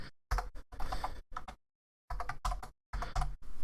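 Typing on a computer keyboard during Ubuntu 16.04 setup, in several close bursts of rapid clicks separated by short pauses, with no talk.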